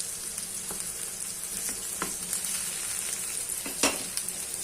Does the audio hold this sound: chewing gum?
no